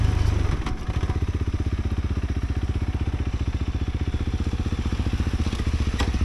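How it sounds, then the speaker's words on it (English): A motorcycle engine runs close by at a steady idle, its fast, even throbbing pulse continuing for several seconds with faint clatter on top and no one talking. "I can hear a motor, but it doesn't sound like they're moving"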